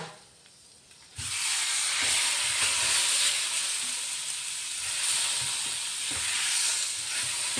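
Washed chicken drops into a hot pan and bursts into a loud, steady sizzle that holds for several seconds, with faint stirring scrapes underneath.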